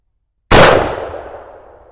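A single loud 70-150 WCF rifle shot firing a 900 grain bullet into ballistic cloth, a sharp close blast after a brief silence, ringing out in a long fading tail.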